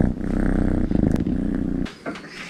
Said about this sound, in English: this is a video about why you should adopt a cat, and this is Midnight